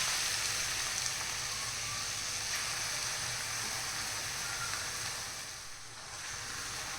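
Grated raw mango and other ingredients frying in ghee for a sweet gulamba, giving a steady, soft sizzle that holds evenly throughout with a brief dip near the end.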